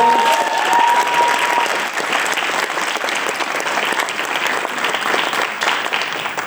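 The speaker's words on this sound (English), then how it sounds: "Can I please get a round of applause?" Audience at a PAX Australia 2024 convention panel breaks into sustained applause, a dense wash of clapping that stays loud and even throughout, with a brief tone at the start.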